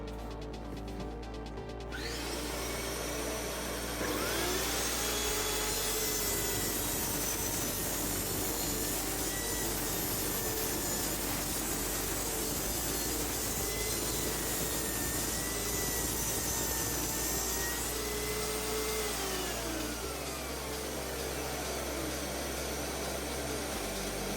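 A DeWalt DWS773 sliding single-bevel mitre saw makes a compound cut at 30 degrees of tilt, its motor spinning up to a loud, sustained whine that holds for about twenty seconds before winding down, with no talking.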